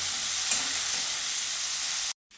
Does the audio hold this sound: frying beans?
yes